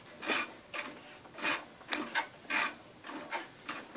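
Shopsmith Mark V with its shaft rotated while the speed control is adjusted, giving a steady series of rhythmic mechanical whirring, scraping bursts about twice a second, close and moderately loud with no talk.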